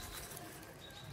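Faint, low pigeon cooing drifts from a rooftop coop in Sialkot, soft murmuring calls set against a hazy background noise with no talking.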